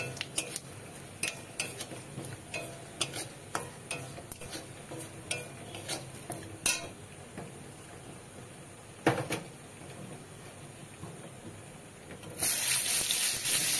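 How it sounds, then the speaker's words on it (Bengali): Mustard seeds and two or three dry chillies temper in oil with a quiet hiss and a run of sharp, irregular pops and clicks, ending in a louder rush of hiss; no voices. "এখন এখানে সর্ষে ফোড়ন দিয়ে দিলাম, 2-3টে শুকনো লঙ্কাও ফোড়ন দিয়ে দিলাম"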